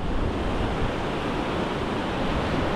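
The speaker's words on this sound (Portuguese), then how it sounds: "já viu as ondas batendo aqui em cima no canto direito" Ocean waves break on the beach at Arraial do Cabo, a steady, loud broadband surf wash that fills the whole stretch without pause, mixed with wind rumble on the microphone.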